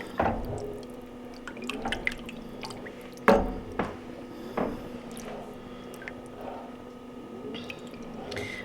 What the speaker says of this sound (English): I actually am now putting half and half in here